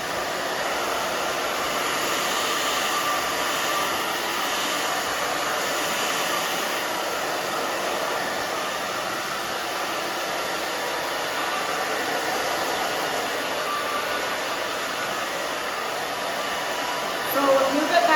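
A hair dryer blows steadily and loudly close by while short hair is dried, one continuous airy roar that holds nearly unchanged throughout, with a brief bump near the end.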